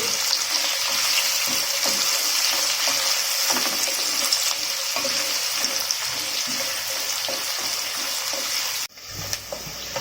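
Sliced onions and green chillies fry in a pan with a steady, close, dense sizzle that cuts off abruptly near the end, leaving only faint low rumble.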